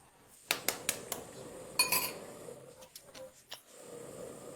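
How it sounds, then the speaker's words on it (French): Four eggs are separated into a bowl: a few sharp taps of shell on a rim, then soft clinks and scrapes of shell and bowl. The sounds are faint and close, with quiet pauses between them. "Je vais maintenant séparer 4 œufs."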